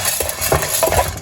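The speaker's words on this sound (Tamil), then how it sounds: "கடலைப்பருப்பு நல்லா வறுவிட்டு கொட்டிடு." Chana dal rattles and scrapes as it is dry-roasted and stirred in a pan, short uneven clatters of a spoon and grains over a faint background hum.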